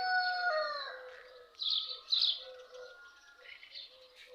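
A rooster crows outdoors at moderate distance, then other birds chirp and trill in short bursts, fairly faint with quiet open-air background.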